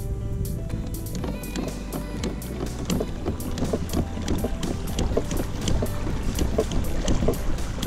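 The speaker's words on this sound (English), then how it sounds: "So let's go as fast as I possibly can." A 2019 Hobie Outback pedal kayak surges through water at top speed, with continuous loud splashing and hull rush, plus steady wind buffeting the microphone throughout.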